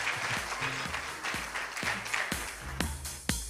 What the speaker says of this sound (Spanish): Aplausos para Sofi.